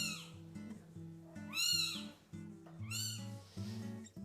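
Several high, thin meows from a one-week-old Maine Coon kitten rise and fall one after another over a low background tone, close and fairly clear.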